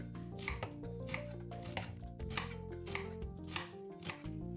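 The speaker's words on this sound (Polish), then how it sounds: "I kroję drobno." A knife finely chops a small bunch of parsley on a board, producing rapid, evenly spaced crisp knocks close by, heard alone over faint background music.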